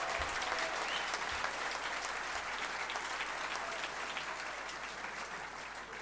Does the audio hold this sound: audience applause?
yes